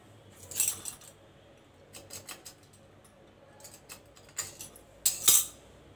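A knife cutting karanji pastry dough on a board, making light, scattered clicks and taps that grow sharper toward the end. No one speaks.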